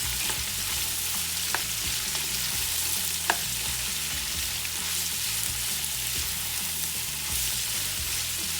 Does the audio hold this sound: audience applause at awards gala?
no